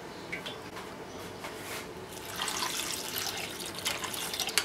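Water poured into a clay pot of buttermilk curry with sliced vegetables, chili powder, turmeric, salt and curry leaves, a soft close trickle and splash building in the second half, with no talking.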